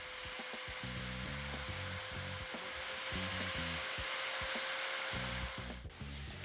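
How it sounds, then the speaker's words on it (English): A Festool Domino joiner plunges repeatedly into a wooden back panel for a mudroom cabinet, cutting a mortise with a steady motor whine and rhythmic, closely spaced bursts of cutting noise, loud and near with no talking. "now it's just a matter of lining up the sight gauge and making a mortise"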